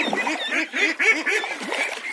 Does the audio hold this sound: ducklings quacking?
yes